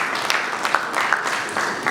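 Guests at a corporate product unveiling event for a bank give a round of applause, a fairly loud, even spread of many hands clapping that carries on steadily without talk.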